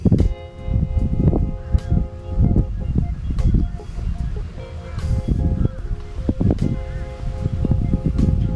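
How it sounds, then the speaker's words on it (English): Gusty wind buffets the microphone outdoors at a barbecue in low, rumbling bursts, with faint speech drifting in and out beneath the blustery roar. "It's a little windy here today."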